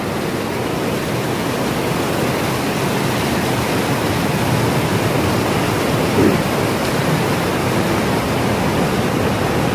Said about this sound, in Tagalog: Ay, malakas ang tubig.